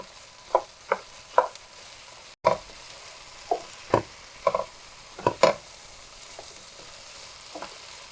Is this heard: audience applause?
no